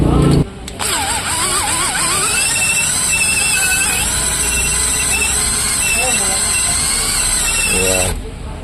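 A power drill whines at high speed for several seconds, cleaning grime from a rusty Shimano XT bicycle derailleur, its pitch wavering and squealing, loud and close, then cuts off abruptly.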